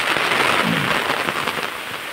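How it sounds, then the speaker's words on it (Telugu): Heavy rain pours steadily onto cotton farm fields, a dense, unbroken hiss close by from start to finish, with no voices. "వర్షం మాత్రం మామూలుగా పడట్లేదండి."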